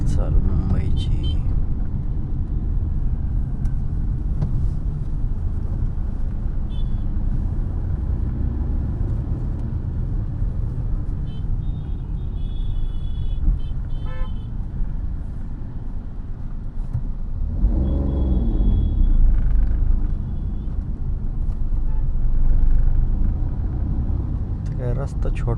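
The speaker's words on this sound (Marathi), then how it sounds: "ट्रॅफिक चालू मुंबईची." Steady Mumbai road traffic heard from inside a moving Maruti Alto 800: a continuous low rumble of engines and tyres, with a few short horn tones around the middle and occasional faint voices beneath it.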